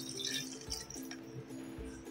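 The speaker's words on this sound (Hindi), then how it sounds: "हम इसमें 1/2 गिलास पानी ऐड कर देते हैं।" Half a glass of water is poured into a pressure cooker holding black chickpeas and oil, giving soft, quiet splashing and dripping in short bursts with small liquid plops throughout.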